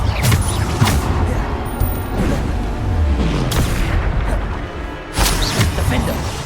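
Bombarda spell explosions in Hogwarts Legacy, several sharp booms with crackling bursts spaced a second or so apart over a thick, rumbling combat background.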